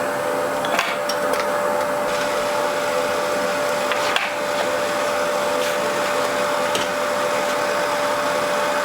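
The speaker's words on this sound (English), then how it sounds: "So I'll run all the pieces through that are having a rebate with that cut" A spindle moulder runs continuously while cutting rebates in oak window frame pieces, a loud steady whine with a constant tone and scattered short ticks and knocks of timber being fed.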